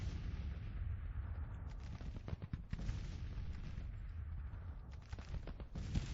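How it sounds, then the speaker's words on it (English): Artillery fire in the Civil War strategy game Grand Tactician, during a Confederate campaign battle: quiet, distant booms and crackling gunfire rise over a steady rumbling battle din. "Looks like that artillery is firing at Stevenson's brigade."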